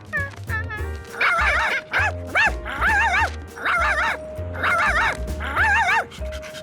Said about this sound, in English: Dogs don't understand.